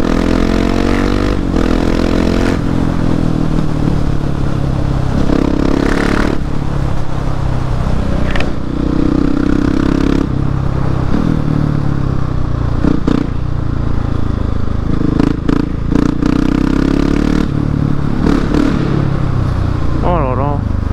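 A KTM 701 single-cylinder motorcycle fitted with a new exhaust revs loudly and close up, its deep engine roar rising and falling through repeated throttle blips, with people talking over it.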